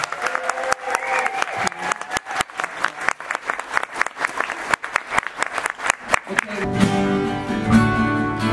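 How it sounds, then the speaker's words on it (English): An audience at a summer showcase applauds in a large room, a dense, sustained wash of many hands clapping that swells and carries on for several seconds, with crowd noise underneath. "I just want you to give them a big big round of applause."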